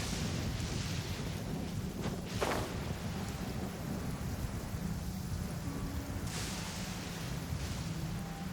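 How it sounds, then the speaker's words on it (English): Rain pours steadily in the video game Genshin Impact while thunder cracks and rumbles a few times over it, a dense, constant downpour with occasional sharp strikes. "I'm used to the rain, but you should probably use an umbrella."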